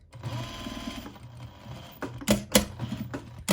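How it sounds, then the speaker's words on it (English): A sewing machine stitches around the edge of a fabric fingerless glove in close, steady whirring runs, pausing now and then, with a few louder clicks and knocks toward the end. "So I like to sew around it one time and then take it off the machine, pull my pins out."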